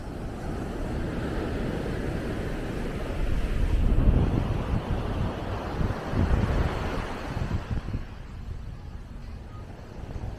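Surf rolling onto a quiet, uncrowded beach at Quy Nhon, Vietnam, a steady broadband wash of breaking waves with wind buffeting the microphone, swelling louder in the middle and easing toward the end.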